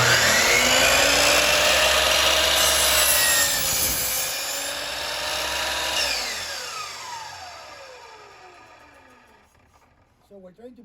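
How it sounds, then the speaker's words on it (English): A miter saw cuts through wood with a loud whining buzz that rises and falls as the blade moves through the piece, then spins down and fades, while a voice talks over part of it. "All right, so back to the miter saw."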